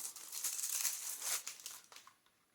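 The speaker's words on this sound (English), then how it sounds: "We have some lashes in this gorgeous packaging. Let's unwrap these." Crinkly plastic packaging around a set of false eyelashes is unwrapped in a close, quiet run of crumpling and tearing rustles that tail off near the end.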